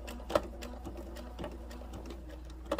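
Sewing machine stitching a quarter-inch seam on fabric for a bumble bee gnome craft, a soft steady motor hum with faint ticks and a couple of sharper clicks, fairly quiet and close.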